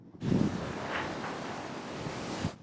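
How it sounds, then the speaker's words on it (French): Heavy wind buffets the microphone outdoors at an abandoned site with old trains, a steady roaring rush and low thumps, continuous and close, with no voices. "Aujourd'hui, il y a beaucoup de vent."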